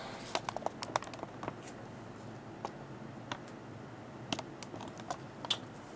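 A password being typed on a computer keyboard during a Mac OS X Lion setup: quiet, close key clicks in irregular small clusters against a faint steady background hum, with no speech.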